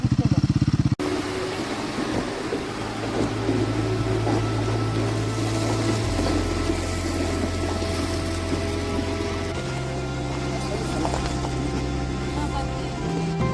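A motorcycle engine drones loudly and steadily at close range, struggling on the rough Hunli road stretch between Anini and Roing, its pitch rising and dropping in steps as it labors.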